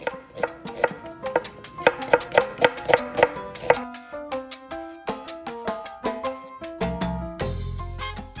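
Half a yellow onion is sliced with a knife on a cutting board, a rapid run of crisp, evenly spaced chops close by, then slower separate cuts and a brief rustle of the pieces at the end.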